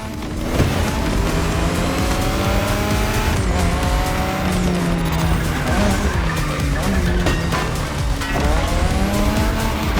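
Drift car in The Crew Motorfest racing game, engine revving hard with sustained tire squeal and skidding, loud and continuous for the whole stretch with pitch sweeping up and down as the car slides.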